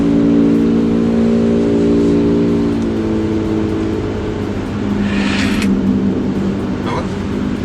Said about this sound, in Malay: Sekarang ada motor bising kat sebelah kita ni.